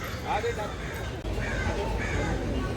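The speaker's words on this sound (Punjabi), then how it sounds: "ਕਾਂ ਬੋਲਦੇ ਆ ਇੰਡੀਆ ਵਾਂਗੂ" Several crows caw in the background at San Diego Zoo, harsh repeated calls rising over a noisy outdoor hum, with people talking nearby.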